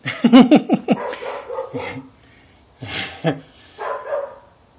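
Small dogs yapping in short bursts, close by, with pauses between volleys; a voice may be mixed in near the start.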